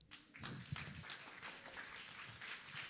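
Audience applause at a conference, a dense, even patter of many hands clapping that carries on for a few seconds, heard from a distance and fairly faint.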